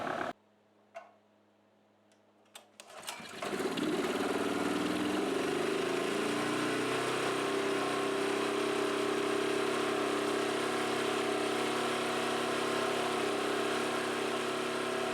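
Small gasoline engine generator starting up after a few clicks and pulls, then settling into a steady, loud, continuous running drone that carries on unbroken.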